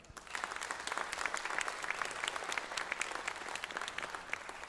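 A sizable audience at a college convocation applauds, a dense, steady wash of clapping that holds evenly at moderate loudness from start to finish.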